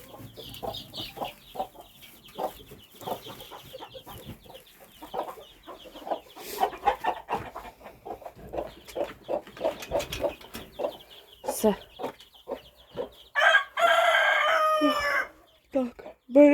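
Chickens cluck in short irregular bursts from close by, and a young rooster crows once loudly near the end, with a person talking intermittently over the birds.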